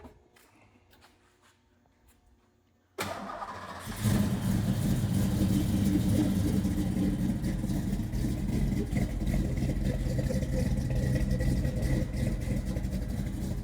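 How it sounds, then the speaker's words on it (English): An old car engine cranks and catches after a quiet stretch, then settles into a loud, steady, rumbling rev that holds close by for the rest of the stretch. "This car's always sounded so good to me."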